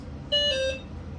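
An EMMO ADO e-bike answering its remote with an electronic beep, a single short two-tone chirp, clear and close over faint room hum.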